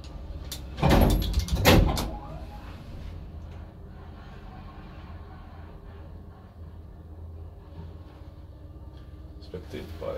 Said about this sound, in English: And I can hear the doors.